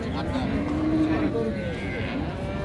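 A cow moos with a long, low drawn-out call at a busy village cattle market, set against steady crowd murmur and general outdoor market noise.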